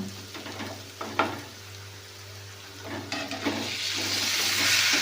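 Boiled cauliflower pieces drop into a hot pan for a tomato cauliflower curry, setting off a steady sizzle that swells louder toward the end, with a few stirring scrapes and clatters along the way.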